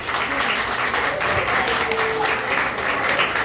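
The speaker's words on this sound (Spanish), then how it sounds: "pido un fuerte aplauso, por favor" A live audience at a concert claps steadily for a young singer as she is introduced, giving a dense, continuous wash of applause with a few voices mixed in.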